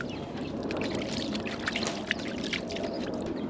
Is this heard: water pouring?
yes